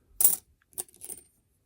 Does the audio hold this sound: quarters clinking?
yes